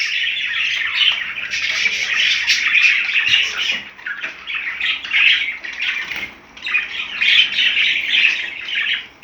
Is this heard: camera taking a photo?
no